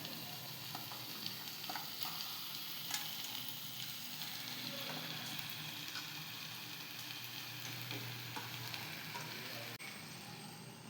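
Raw chicken fries in spiced masala with a steady, soft sizzle and faint stirring clicks, a continuous low hiss from the pan with no talking.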